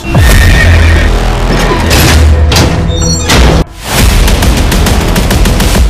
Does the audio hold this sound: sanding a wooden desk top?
no